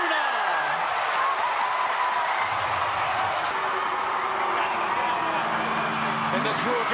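Fans roar and cheer in a stadium during a Super Rugby Women's semi-final between the Fijian Drua and the Western Force, a loud sustained wall of crowd noise with voices talking over it.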